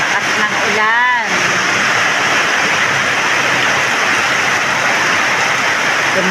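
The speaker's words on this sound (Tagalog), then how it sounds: "Lakas ng ulan." Heavy rain falls outside a house, a dense, steady hiss of downpour that fills the whole stretch, with a brief warbling voice-like sound near the start.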